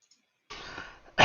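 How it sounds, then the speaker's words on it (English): A single short cough from a man during an online chat show, close to the microphone and alone, followed by a brief louder burst. "I heard the cough."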